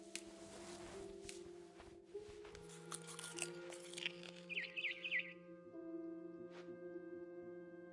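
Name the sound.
barn swallow chirping outside window, video game What Remains of Edith Finch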